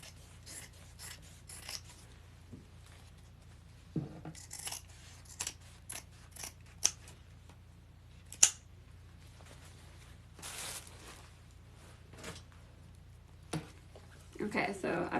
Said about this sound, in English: I'm going to cut the lining exactly the same. So let's cut this out.